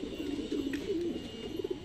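Saharanpuri pigeons cooing close by, a low, continuous, rolling coo that rises and falls in soft pulses with no voices over it.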